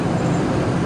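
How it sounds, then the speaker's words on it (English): Big truck going by slowly on a road, a steady close low rumble of engine and tire noise filling the short moment without a break. "We've got a big truck going by slowly."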